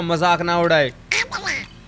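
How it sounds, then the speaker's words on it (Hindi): In the video game GTA 5, a character speaks in a nasal, quacking duck-like voice. It sounds as a short spoken phrase, loud and close. "ये तो एक बतख की आवाज है।"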